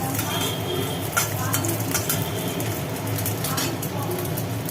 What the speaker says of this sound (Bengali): হয়ে গেল ডিম ভাজা